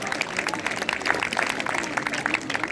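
Applause from an audience at a live stage performance, a steady dense patter of many hands clapping, continuous and fairly loud throughout.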